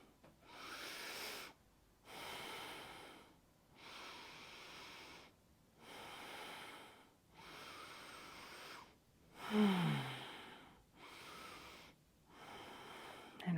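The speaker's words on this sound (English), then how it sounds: "let's do 5 deep breaths here" Slow, deep breaths in a chair yoga class repeat about every two seconds, each a close airy inhale or exhale followed by a brief quiet gap, with one rougher, snorting breath near the end.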